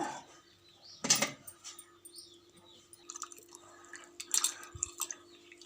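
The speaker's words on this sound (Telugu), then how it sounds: "చింతపండు పులుసు పోస్తున్నాను అనమాట ఇప్పుడు" Tamarind juice poured into sambar in short liquid splashes and drips, one sharp burst early and scattered smaller splashes later, fairly close over a steady low hum.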